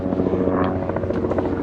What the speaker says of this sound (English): there's a helicopter coming over again